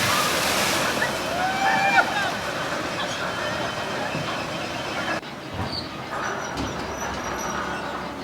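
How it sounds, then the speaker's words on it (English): Rushing, splashing water roars steadily along with a rumbling amusement park water ride, then the scene shifts to a quieter stretch of churning water and distant noise. "splashing of the water for an extra little buzz"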